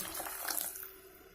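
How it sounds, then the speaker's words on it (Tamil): Water pours into a pot of tomato rasam made with ground rasam powder, a steady splashing trickle lasting about a second, close and fairly quiet with no talk. "தண்ணி சேர்த்துக்கலாம்."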